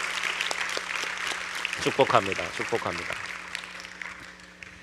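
A church congregation at a Korean youth Sunday service claps together for young members and soldiers from an artillery unit, a moderate patter of hands with a voice speaking loudly over the middle of it.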